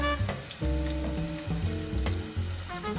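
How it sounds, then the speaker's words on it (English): Onion dropped into hot olive oil for eggplant parmesan crackles in a constant, close sizzle, with a tonal musical bed running over it throughout. "We already have olive oil in there. And we put the onion."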